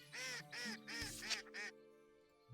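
Musk duck call from the Wingspan board video game, a series of four or five nasal, quacking honks in a steady rhythm, clear and isolated, ending in brief quiet.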